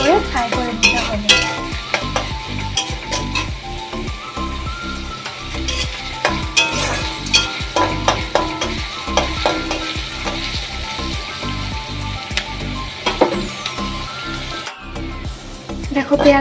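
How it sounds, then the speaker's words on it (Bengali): Onions with a little sugar frying in a pan for katol fish kalia, a steady close sizzle with frequent scraping and clinking as a spoon stirs them, a voice talking faintly over it. "দেখো, পেঁয়াজটা আমার হালকাভাবে ফ্রাই করা হয়ে গিয়েছে।"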